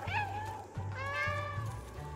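A cat meows in the video game Stray, several clear, close, rising and falling meows in a row over a steady low background hum.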